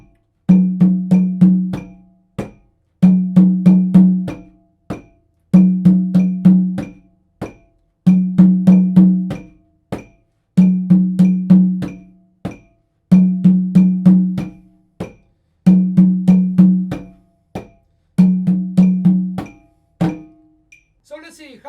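Hand percussion rhythm cell of tone and open strokes for a samba reggae pattern, played as a repeating one-bar phrase of sharp ringing hits with short gaps between repetitions; loud and close, no talking.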